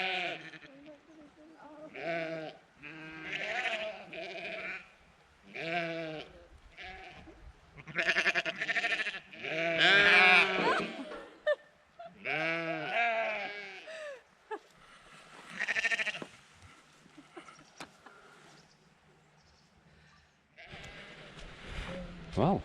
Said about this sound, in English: Wow, bit of sheep racing.